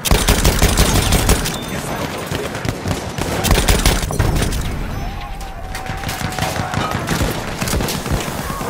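Chauchat machine gun firing in Battlefield 1, a dense stream of rapid automatic shots with loud booming reports, continuous throughout with battlefield noise and brief quieter gaps.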